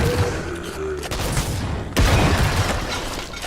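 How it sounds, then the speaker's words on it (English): Super shotgun blasts tearing enemies apart in the retro shooter Wrath: Aeon of Ruin, with loud close booming shots and a burst of gore and debris, dense and layered over game noise across a few seconds. "just walk into one of these guys and just explode them into jibs with the super shotgun"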